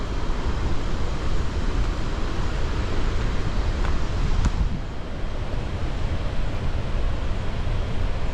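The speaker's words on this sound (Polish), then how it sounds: "To jest tylko jedna odnoga tego wodospadu." Roar of one branch of Victoria Falls in Zimbabwe, a steady broadband rush of falling water heard close and loud, unbroken, with no voices over it.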